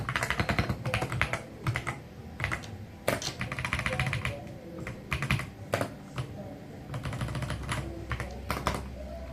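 Rapid, irregular clicking of keys on a computer keyboard as numbers are entered for a sorting program, with bursts of close, crisp keystrokes and short pauses, no voice.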